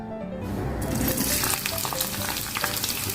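Sliced onions fry in a little oil for a crisp fried-onion garnish, with a pinch of salt added. A loud, continuous sizzle and crackle fills the pan close up, with no talking.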